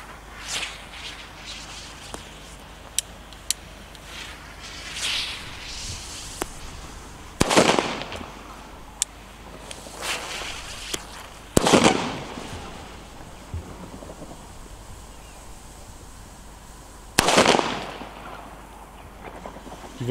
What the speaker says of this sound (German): Explode-Kanonenschläge.